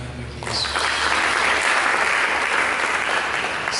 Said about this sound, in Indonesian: Mari berikan tepuk tangan bagi Yesus.